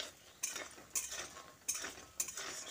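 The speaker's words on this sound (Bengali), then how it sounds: "গরম তেলে বড়িগুলো দিয়ে হালকা করে নেড়ে চেড়ে উল্টে পাল্টে ভেজে তুলে নেব।" Lentil dumplings (bori) are turned in hot oil over a high flame, a spatula clinking against the pan in four sharp strokes over a quiet, faint sizzle.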